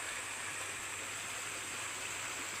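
Mountain stream water flows in a steady, continuous rush close by, a broad hiss with no voices over it.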